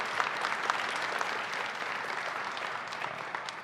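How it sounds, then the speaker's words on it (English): A crowd applauds steadily at an outdoor Christmas tree lighting ceremony in Pennsylvania, a dense, even clapping that holds for several seconds without a break, heard from a moderate distance with no voices over it. "Let's give them a round of applause for putting together such a great event."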